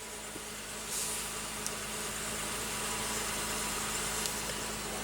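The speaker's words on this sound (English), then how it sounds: "Just put your foot on the brake and hit the button to start." 2015 Acura RDX with a 3.5 L V6 idling after a push-button start, a low steady engine hum with a slight rise as it settles, smooth and continuous, heard from inside the car.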